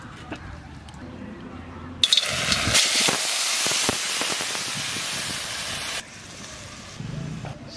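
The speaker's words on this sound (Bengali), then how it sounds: "কড়াই গরম হয়ে গেছে, এবার আমি এই ননিটা দিয়ে দেবো।" Butter hits a hot karahi and sizzles loudly for homemade village-style cow ghee, a sudden burst of steady frying hiss that holds for several seconds before dropping back.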